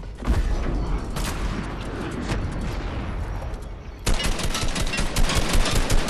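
Rapid automatic gunfire in a video game as the player shoots at an incoming spaceship: a steady, dense stream of shots that pauses briefly, then resumes more loudly, with no talking.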